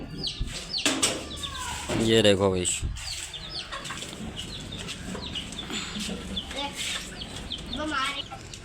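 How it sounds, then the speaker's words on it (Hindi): An Aseel rooster with six or seven hens in a room at a home mini zoo, loud close clucking and a rising squawking call, with someone speaking over it. "ये मेरा मुर्गा है, असील मुर्गा"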